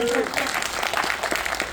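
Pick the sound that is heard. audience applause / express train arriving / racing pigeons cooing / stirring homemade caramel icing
audience applause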